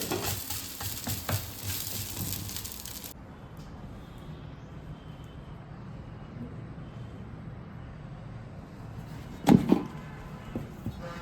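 Dosa cooking with ghee on a hot pan: a soft continuous sizzle, louder at first then settling low, with a couple of sharp clinks of a spatula near the end, no speech.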